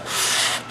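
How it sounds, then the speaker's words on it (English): A single short stroke of soft abrasive rubbing with a foam flexi sanding block, a smooth sanding swish across a contoured surface, close and fairly quiet. "as I'm sanding down"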